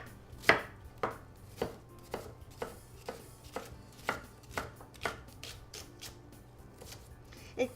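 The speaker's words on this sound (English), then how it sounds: "Now I'm going to chop up an onion and saute it real quick." A knife roughly chops an onion on a cutting board, a steady series of crisp, close thuds about twice per second, with a low hum underneath and no talking.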